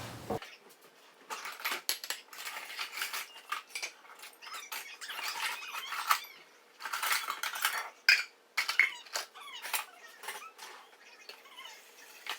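Dishes and cutlery being washed at a kitchen sink during a home clean-up, with steady clinks, scrapes and clatters of plates and silverware and a few sharper knocks, close and continuous with no talking.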